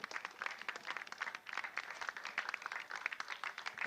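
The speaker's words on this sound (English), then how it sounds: "one big final round of applause for Mini 60 Finals" Dense, steady applause from an audience at a Mini 60 karting finals prize ceremony in Macau, many hands clapping continuously at moderate distance throughout.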